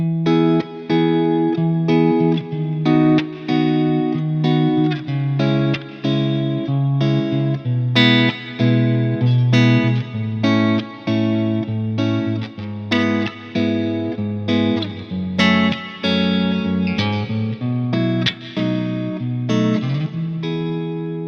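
An electric guitar with effects plays a chord progression, strummed chords ringing out one after another at a steady pace.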